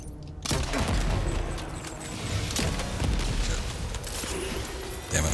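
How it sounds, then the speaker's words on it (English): A grenade launcher fires in Death Stranding 2 amid a dense, continuous barrage of loud booms and crackling gunfire that rolls on without pause. "Oh, we have a grenade launcher."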